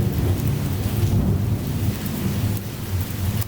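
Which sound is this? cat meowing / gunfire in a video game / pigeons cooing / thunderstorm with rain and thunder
thunderstorm with rain and thunder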